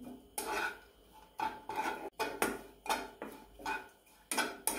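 Grated coconut being stirred and roasted in a pan until golden, with repeated scraping and clinking of a spatula against the pan in uneven bursts, close and fairly loud, no talking.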